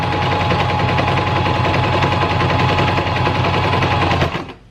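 A sewing machine stitches through two layers of fabric at a corner, a loud, steady, rapid mechanical rattle running without pause and stopping abruptly near the end.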